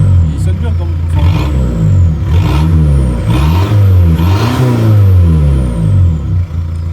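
Car engine revving hard through its exhaust, rising and falling in several close, loud surges of throttle, with voices faintly beneath.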